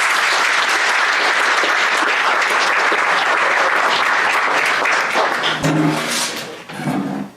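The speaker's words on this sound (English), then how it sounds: "Can we give her one more round of applause?" A loud, sustained round of audience applause at a naturalization ceremony follows a performer's song and holds strong for several seconds before thinning and tapering off with some crowd noise near the end.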